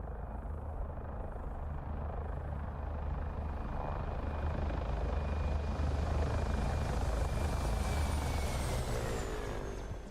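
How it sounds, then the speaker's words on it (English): A Mi-24 Hind military helicopter flying, a loud, continuous rotor thump and turbine whine that holds steady, with a faint pitch shift as it passes. "Today we're talking about a very special helicopter, the Mi-24, known as the HIND or Satan's Chariot for some."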